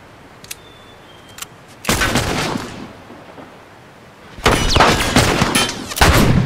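Gunshots ring out in The Last of Us video game, with a few sharp isolated cracks followed by two longer, loud bursts of rapid firing.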